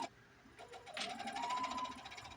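A sewing machine hems the pinned armholes of a halter top, starting after a brief pause and then humming in a quick, even stitching rhythm up close.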